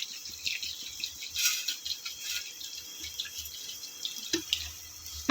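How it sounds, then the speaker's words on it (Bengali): Water poured into a rohu fish and potato curry while it cooks makes a soft, continuous splashing trickle with a few small drips and clinks, faint and close, with no talk. "জল দিচ্ছি"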